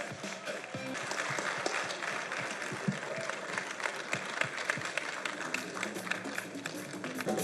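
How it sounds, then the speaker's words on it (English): At an award ceremony, the audience claps for Yaya Toure, African Player of the Year 2012. The applause is steady and moderately distant, with individual sharp claps standing out through the wash. "Could we have a big round of applause, please, for Mr. Yaya Toure?"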